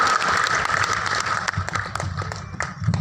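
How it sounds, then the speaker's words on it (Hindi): Applause from a festival audience welcoming a performer, a dense steady wash of many hands clapping, loud and sustained throughout with a faint tone and some voices mixed in. "सभी जोरदार तालियों से स्वागत करें ओम भाई दुरेंद्र तिराना साहब का"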